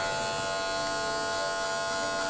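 Electric hair clippers buzz steadily and close, a constant humming drone without pauses.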